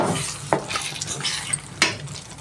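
A spoon stirs mutton and brinjal curry in a pot over a soft sizzle, with several sharp metallic scrapes and knocks against the pot's side at an irregular pace.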